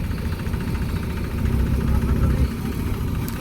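A JCB backhoe engine runs steadily during a tractor rescue, a rough mid-to-low diesel rumble with constant vibration that swells slightly in the middle, heard outdoors alongside some talking.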